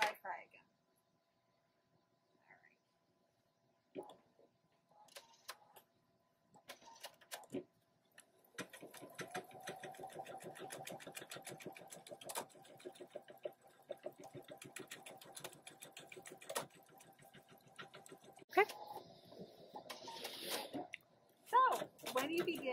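A PFAFF embroidery machine runs a long, steady stretch of rapid stitching with a rhythmic mechanical chatter, after a few sparse clicks and brief sounds at the start, ending in some short handling noises.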